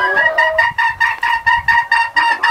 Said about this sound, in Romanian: Găinile,